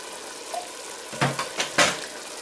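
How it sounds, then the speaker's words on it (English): Water from a can poured into a pot of simmering meat sauce for a Greek pasta dish, giving a few short splashing gurgles close by after a quiet start. "Add the can of water."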